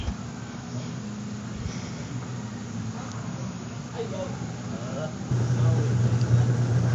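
An electric motor in a Sharp appliance, newly rewired, spins a belt and pulley with a steady low hum that grows louder and gains a sustained whine toward the end.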